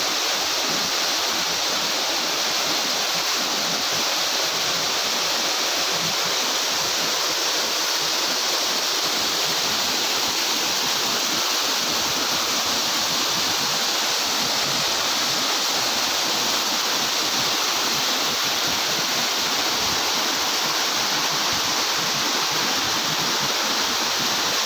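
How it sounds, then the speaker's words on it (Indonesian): Steady, unbroken roar of a waterfall, the second cascade at Granjangan, rushing water filling the air at a constant level for the whole stretch without any voices. "Jadi ini teman-teman ya, untuk air terjun yang kedua."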